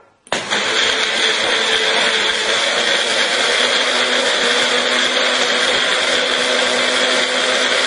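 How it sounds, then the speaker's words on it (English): A blender switches on abruptly and runs at a steady high whine, loud and close, without stopping. "now we're going to throw it onto the blender"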